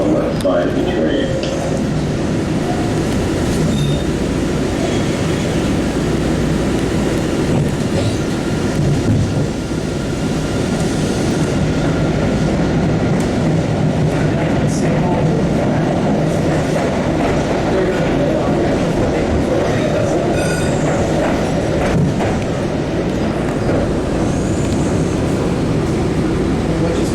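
An MBTA Siemens 700 Series Blue Line subway train rides from Wonderland to Bowdoin, a loud sustained rumble and roar of wheels on track with faint rhythmic clatter throughout, close and steady, with voices mixed in.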